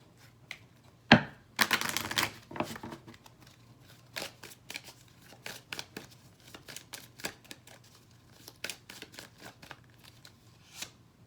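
Oracle fortune cards being shuffled and drawn from a deck during a tarot-style reading, a sharp riffle burst early followed by repeated soft, close card snaps and slides, with no talking.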